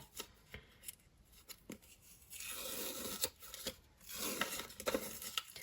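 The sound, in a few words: peeling backing off stick and stitch sheet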